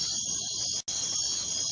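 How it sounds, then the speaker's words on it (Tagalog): A cricket chirping as a sound effect, a continuous shrill trill that cuts out for a split second before resuming. "Nabalik sa kuliglig."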